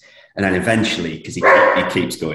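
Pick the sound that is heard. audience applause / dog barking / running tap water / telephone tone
dog barking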